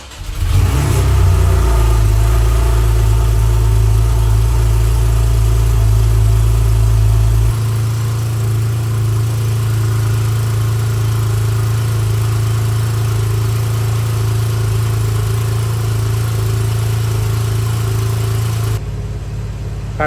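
A 2016 Porsche 911 engine idles while warming up just after an oil change, opening with a loud rev that settles into a steady, deep, even idle droning close by with no talk.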